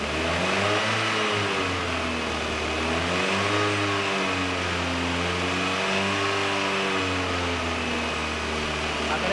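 A car engine revs hard under sustained acceleration while a Speeduino programmable engine control unit runs it during a crankshaft position sensor test. The loud, steady drone rises and falls in pitch and fills the whole stretch.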